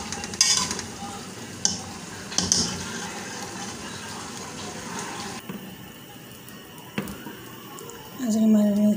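A spoon stirs and scrapes inside a cooking pot of chickpeas simmering in broth, with watery bubbling and a few sharp clanks against the metal.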